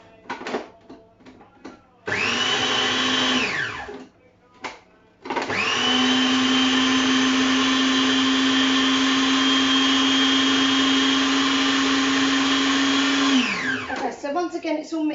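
Blender blitzing meatball mixture with ground pepper: a short loud whirring burst, a brief pause, then a long steady close-up run of the motor that winds down at the end.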